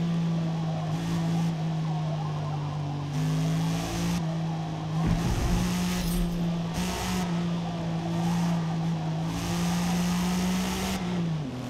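A race car droning steadily around the Suzuka circuit in the Forza Motorsport video game, its engine note holding a sustained pitch with brief shifts and dips, loud and continuous throughout.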